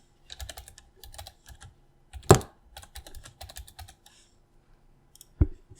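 Fingers clack on a computer keyboard close to the microphone in quick, irregular bursts of keystrokes, with a couple of louder single thumps between runs of typing and no talking.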